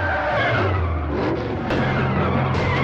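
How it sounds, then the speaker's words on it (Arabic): In a martial arts action film, a car skids hard after the handbrake is yanked, with a loud continuous tire screech over engine roar that swells and cuts off abruptly, no talking. "بس جاكي بيقدر يشد فرامل اليد"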